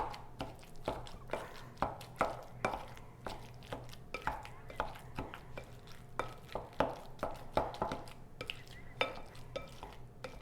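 Avocados are mashed for homemade guacamole, with a steady run of soft, rhythmic squelching presses and scrapes against a bowl, close and fairly quiet throughout.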